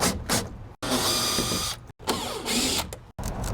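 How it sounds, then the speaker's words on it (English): Nut driver backing screws out of a truck cap window frame, producing bursts of rough whirring and scraping broken by short silent gaps, close up with no talking. "This side, we're going to use a nut driver."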